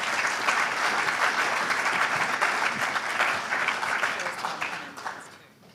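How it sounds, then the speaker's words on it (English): Awards event audience applauds at a conference, a dense, sustained wash of clapping from a sizeable crowd that holds steady for several seconds and then tapers off. "You can make a little round of applause for Francis"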